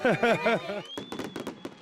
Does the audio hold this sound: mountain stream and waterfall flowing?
no